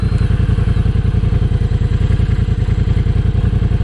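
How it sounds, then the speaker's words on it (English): A Triumph bobber motorcycle engine idles close by with a steady, deep, rhythmic thumping pulse, loud and even throughout with no talk over it. "let's try out this Triumph bobber"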